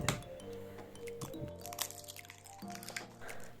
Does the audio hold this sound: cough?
no